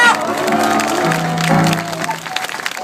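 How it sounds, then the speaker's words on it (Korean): An audience at a Korean stage show claps in a dense burst of applause that lasts a few seconds, mixed with voices and a loud chanted call from the crowd. "박수 보내주세요."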